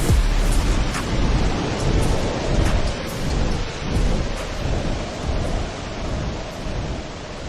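A heavy thunderstorm with dense, drenching rain pours steadily while rolling thunder rumbles through it, loud and enveloping, with no voices.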